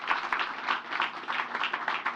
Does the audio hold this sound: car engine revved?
no